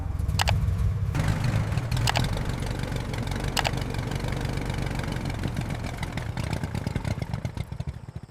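A 1927 Dodge Doodle Bug's engine chugs steadily and close in first gear, a low rumbling, knocking drone that continues throughout.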